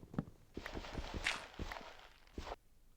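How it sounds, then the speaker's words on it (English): Repeated footsteps in Minecraft with the Silent Forest mod, roughly steady and spaced apart, thud over a broadband rustling background; no speech. "I heard these footsteps coming closer to me"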